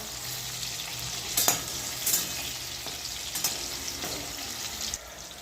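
Eggplant frying in a pan gives a steady, even sizzle, with a few louder scraping stirs cutting through near the start and middle.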